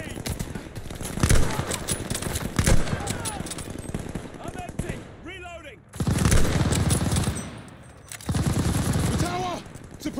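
Tower machine gun fire in a Call of Duty: Vanguard campaign battle during Operation Tonga, dense rapid bursts rattling loudly for the whole stretch, pausing briefly near the middle, with shouted voices between and over the shooting.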